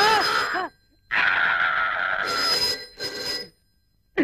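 A telephone rings loudly in bursts with short pauses between them, a persistent bell-like tone with no one speaking.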